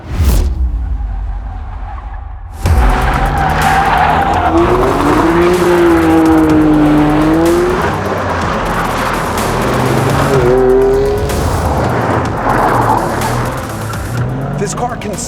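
A car engine roars loudly as it slides sideways, long tire squeals rising and falling over the sustained revving, close and continuous.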